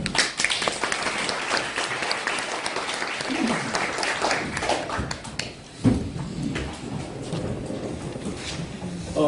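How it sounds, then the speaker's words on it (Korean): Seated audience at a university lecture breaking into applause for the speaker, fairly close and steady for several seconds with a brief dip midway, no talk over it. "열강을 해주신 조희만 차장님에게 다시 한번 박수 부탁드립니다"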